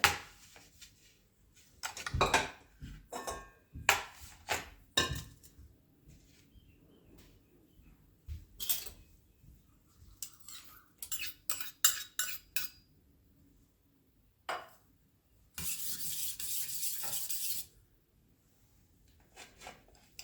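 Garlic and coarsely crushed roasted peanuts being stirred together with a spoon for a yogurt chutney, giving a series of close, sharp clinks and scrapes against the bowl, with a steady scraping burst near the end and no talking.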